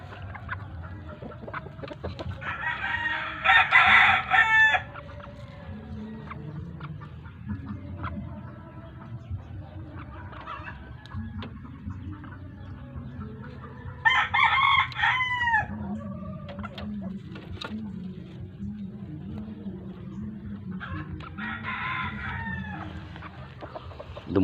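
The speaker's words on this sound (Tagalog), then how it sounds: "Ito anak pa sa broodcock ko yung malaking tapay, yung malaking palong." Backyard chickens, young offspring of a brood rooster, cluck and murmur softly while roosters crow loudly three times at intervals, close by in a farmyard.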